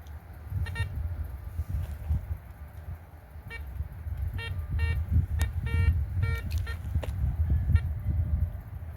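Metal detector giving a series of short, irregular electronic beeps as the coil swings over the ground outdoors, heard over a steady low rumble of wind or traffic.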